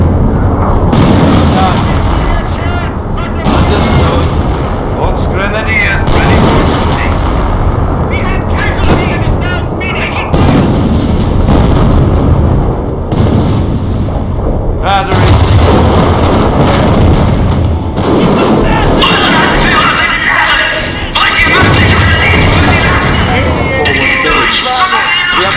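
Enemy shelling and explosions pound a player's base in the World War II strategy game Company of Heroes, a dense, continuous barrage of booms and gunfire with game voices calling out over it.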